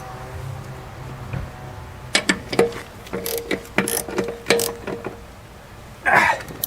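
A wrench tightens a bolt on a steel bracket joining a car's floor pan and frame, giving a run of sharp ratcheting clicks with some clunks and a brief grunt near the end.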